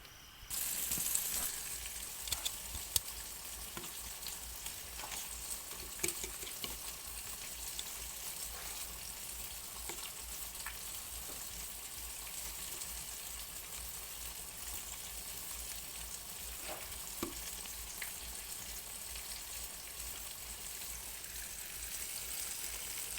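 Food fries in a pan with a continuous soft sizzle and occasional stirring clicks, steady and close throughout.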